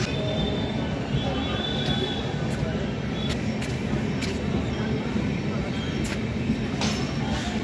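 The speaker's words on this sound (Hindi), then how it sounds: "और एक ट्रेन जा रही है" A train passing through Shahjahanpur railway station, a continuous rumbling roar with sharp clanks and rattles at intervals, loud and steady for the whole stretch, with station noise around it.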